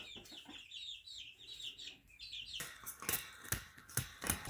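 Backyard chickens clucking near a coop ramp, with chirpy calls at first, then louder, closer squawks and rustling.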